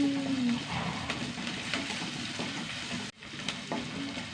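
Onions, ginger, garlic and curry leaves fry in a pan with a steady, close sizzle and occasional stirring scrapes, dropping out for a moment near the end before resuming.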